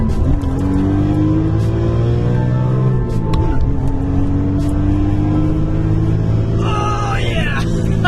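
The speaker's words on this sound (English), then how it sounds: "My absolute favorite thing about this car is the engine" Engine of an E46 M3 or C5 Corvette sports car rising through the revs under hard acceleration, a loud, close, steady drone that drops with a gear shift and climbs again.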